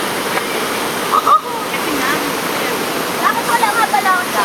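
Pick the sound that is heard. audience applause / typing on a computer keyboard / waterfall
waterfall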